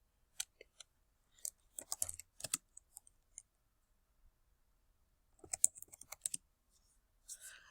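Scattered keyboard taps and mouse clicks while someone enters a name on a math-activity website, arriving in quick irregular bursts separated by quiet gaps, close and light.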